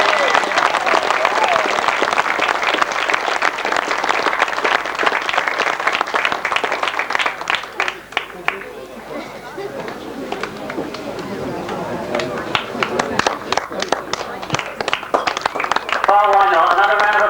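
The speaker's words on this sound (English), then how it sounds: "Another round of applause perhaps for all three crews." Applause from spectators at a grasstrack racing event, sustained dense clapping through most of the stretch, thinning midway then swelling again, with a voice speaking over it at times.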